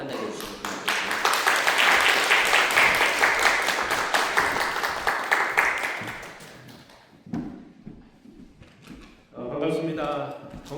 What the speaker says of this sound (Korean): 우리 정 목사님 따뜻하게 박수로 환영해 주시면 좋겠습니다